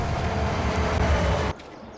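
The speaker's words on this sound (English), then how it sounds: "Need to pull the train forward a little bit" Freight train hauling cars of dry corn in a farming video game rumbles and rolls steadily close by, then the loud running noise cuts off abruptly, leaving a quieter hum.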